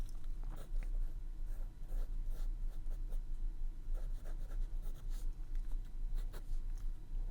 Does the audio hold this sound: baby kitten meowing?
no